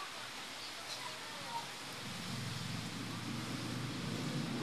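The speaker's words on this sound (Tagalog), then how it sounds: "Ito na, umuulan talaga dito sa amin. May bagyo siya." Rain falls steadily during a storm around a house, a dense, even hiss that thickens into a fuller, heavier wash partway through, with no distinct voices.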